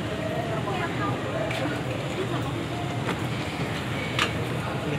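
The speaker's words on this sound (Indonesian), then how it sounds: "Bentar sudah berangkat dari stasiun ini ya, kereta bandara." An airport rail-link train pulls out of the station, heard from inside the carriage as a continuous broadband rumble with faint rattles and a few brief clicks, and muffled voices mixed in.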